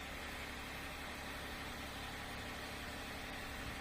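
A 2012 Jeep Wrangler Rubicon idles quietly just after a remote cold start, giving a faint, steady, even engine hum with no revving.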